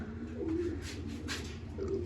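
Soft, low pigeon coos rise twice through a steady background hum, close but faint, at a pigeon loft in a Punjabi village.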